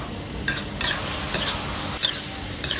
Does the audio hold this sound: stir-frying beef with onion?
yes